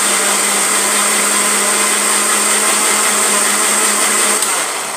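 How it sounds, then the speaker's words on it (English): A kitchen blender purées tomatoes and red chilies for a chicken pilau side dish, giving off a loud, steady high-pitched whir that runs unbroken and tapers slightly at the end. "So I'm gonna blend."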